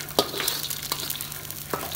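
Eggs frying in a pan, a soft steady sizzle broken by a few sharp clicks of a spatula or spoon against the pan, close and brief with no talking.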